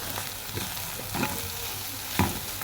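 Onions fry in oil with ground spices and salt for a creamy béchamel dish, giving a steady sizzle broken by a few scraping stirs of a spoon against the pan.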